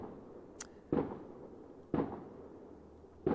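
Distant fireworks on Bonfire Night burst in three separate booms about a second apart, with a faint crackle before the first, rolling out over a quiet outdoor background.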